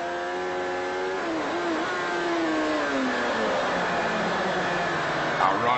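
Superbike engine at a road race, heard from an onboard camera, screaming at high revs with clear gear changes, dropping as it slows for a hairpin and then climbing again, close and continuous.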